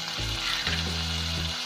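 Chopped potatoes frying in a pan for masala dosa filling, a steady close sizzle and crackle with low rumbling underneath, no voices.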